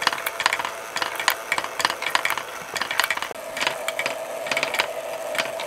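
A homemade rotary ball-bearing and marble lifter test module runs steadily, giving off repeated clicking, ratcheting rattles of balls and moving parts in a loose, continuous rhythm with no talking.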